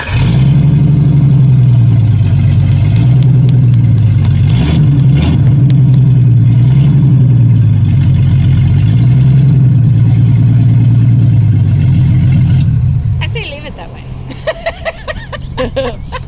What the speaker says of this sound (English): It's going to be noisy because they haven't fully hooked up the exhaust yet